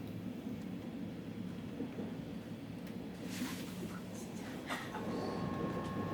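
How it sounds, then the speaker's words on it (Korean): Steady low rumble of a Gyeongui Line KTX train accelerating along the tracks, growing slightly louder toward the end, with faint metallic squeals and no voices. "이후 열차는 속력을 높입니다."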